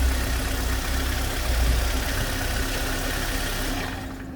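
Hyundai Starex camper van engine idling after a circulating antifreeze change, a steady low hum with a faint whine, holding level and then fading near the end as it shuts off.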